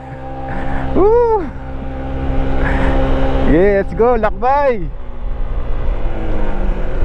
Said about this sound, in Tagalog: Umihiyaw yung motor natin.